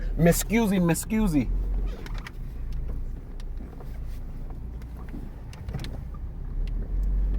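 A Hummer H3 maneuvering into a parking spot at an auction lot, its engine a low steady rumble throughout, with a burst of squealing or chirping sounds at the start and faint clicks and shuffles afterward.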